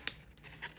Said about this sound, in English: Cut it right down the middle where I have my little fold lines.